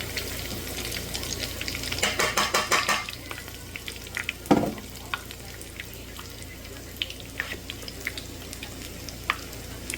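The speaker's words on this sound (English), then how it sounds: "And just let them slow fry." Chile rellenos slow-fry in a good-sized skillet, a soft steady sizzle with a burst of crackling pops early on and a brief clatter midway, faint and close, with no talk.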